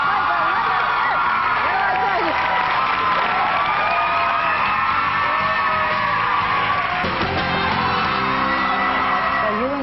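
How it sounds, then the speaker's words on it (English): A large studio audience roars with sustained applause, whoops and yells at a talk show with Jon Bon Jovi and Richie Sambora, loud and continuous throughout. "wait till you hear them applaud for both of them"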